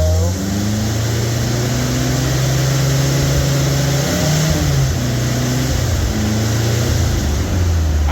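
An MGB car engine revs and runs continuously and loudly close by, its pitch wavering as the throttle rises and falls, with no voices over it.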